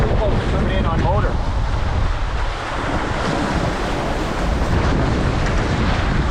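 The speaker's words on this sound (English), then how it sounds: "And we got big breakers here." Big ocean breakers crashing and rolling in continuously, with heavy wind buffeting the microphone from a small sailing boat out on the water; loud and dense throughout, with no clear speech.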